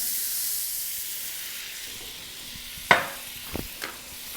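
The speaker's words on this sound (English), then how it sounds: "Nice bit of butter. Deglaze the pan." Butter hitting a hot pan to deglaze it after browning a rack of lamb, a fading steady hiss followed by a few sharp, close spits and crackles near the end, with no talk.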